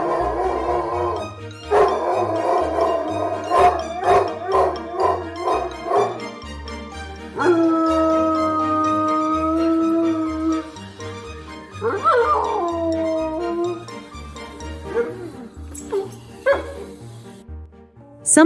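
A dog, or several dogs, making a run of sounds: rhythmic bow-wow barks and yips, then long wavering howls and whimpering cries, loud and close with no talking.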